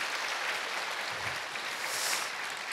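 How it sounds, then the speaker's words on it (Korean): Soft, broad wash of audience applause for a pianist at a joint church worship service in Seoul, steady and faint-to-moderate, heard at a distance without speech. "우리 피아니스트 석승환 군에게 다시 한번 큰 박수 부탁드립니다"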